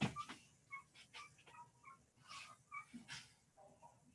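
Puppy named Skylar whimpering, a series of soft high-pitched whines and yips in short bursts, close but faint, with some breathing and no clear speech.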